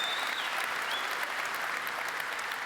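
Conference audience applauding outdoors, a steady dense clapping crowd filling the whole stretch at close range, with no voices standing out.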